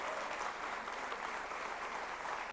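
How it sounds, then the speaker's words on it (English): A conference audience applauds to welcome a speaker, dense steady clapping from a large crowd filling the hall without pause for a couple of seconds. "Please give him a very warm round of applause."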